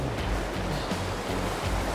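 Shallow river pocketwater tumbling through white water, a steady broadband rush close by with no voices and only a slight ebb and swell in its flow.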